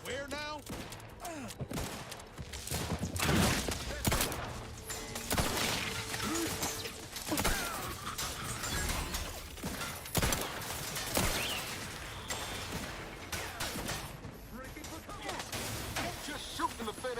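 Rapid gunfire bursts crackle through a firefight in The Outer Worlds 2, with dense, repeated shots and impacts over game sound effects and occasional muttered speech.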